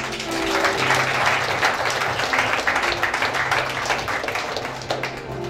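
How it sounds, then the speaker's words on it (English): Church congregation clapping hands for the Lord during a service, a steady wash of many hands clapping together, fairly loud and continuous with a faint low hum beneath. "Let's give the Lord a clap of hands."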